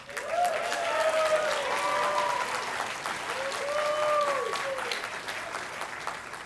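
Wedding guests clapping together in a sustained round of applause, dense and steady at mid distance, with a few voices and cheers rising over it before it gradually thins.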